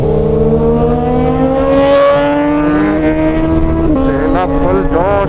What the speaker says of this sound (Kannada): ಬೆಳಗ್ಗೆ ಅದೇನು ಕಿರ್ಚ್ಕೊಳ್ಳುತ್ತೆ ಗೊತ್ತಾ ಗಾಡಿ